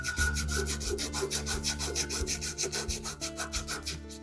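A Harbor Freight carving chisel is rubbed back and forth on 120 grit sandpaper, giving a steady train of close, rhythmic scraping strokes with a faint ringing harmonic underneath.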